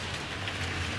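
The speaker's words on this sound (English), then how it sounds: "the rain's starting to slow down" Heavy rain pouring down during a storm over a cornfield, a dense, loud, unbroken hiss of drops with a low rumble underneath, no voices.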